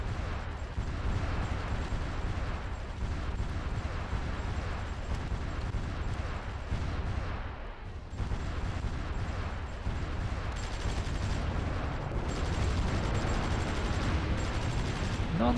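Naval gunfire bombardment in the war strategy game Supreme Ruler 2020, a continuous dense rumble of distant gunfire and blasts layered into a busy battle soundscape, fairly faint and steady throughout.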